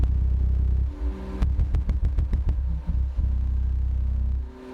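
Audio Legion JAV12, ARM10 and MAX12 car subwoofers, powered by a Taramps HD3000 amplifier, play deep, loud, low bass tones. Partway through, the sustained rumble breaks into a burst of rapid stuttering pulses, then resumes and fades out.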